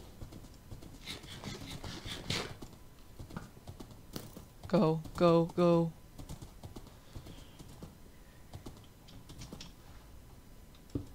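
Minecraft horse hooves clatter in a quick run of three loud, evenly spaced clops in the middle, while players talk excitedly before and after.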